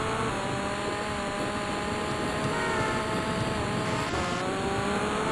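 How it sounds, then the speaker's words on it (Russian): A motorcycle engine hums continuously while riding in GTA Vice City, a steady droning drive with a sustained tonal whine, loud and unbroken without talk. "Вот на мотоцикле покатаемся."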